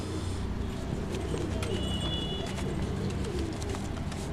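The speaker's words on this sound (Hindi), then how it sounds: "ये सब सियालकोटी कबूतर हैं।" Sialkoti pigeons coo softly and repeatedly in a loft, low murmuring calls layered over a background of rustling and faint speech.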